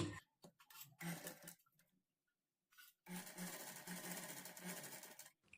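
A sewing machine stitches thread piping onto a lining along a neck edge, whirring in a few short starts and then a longer steady run, close by with no talk.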